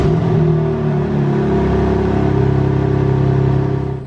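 A 2023 BMW M3 Competition xDrive engine revs up from idle, a loud, close, steady throaty drone with rising and holding pitch across several seconds.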